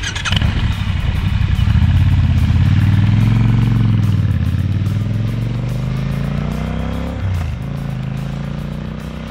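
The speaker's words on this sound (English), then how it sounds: "the engine is a liquid-cooled 8-valve SOHC engine" A 2019 Triumph Scrambler 1200 XC motorcycle with a liquid-cooled 8-valve SOHC engine rides past, its loud, close engine droning steadily, rising in pitch and then easing off as it pulls away.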